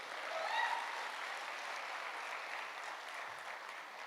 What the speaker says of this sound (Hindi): जोरदार तालियां नागेश्वर जी के लिए एक बार फिर से.